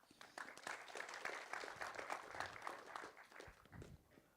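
A round of audience applause at a startup meetup and showcase evening, steady dense clapping of moderate loudness lasting several seconds with a dip near the end.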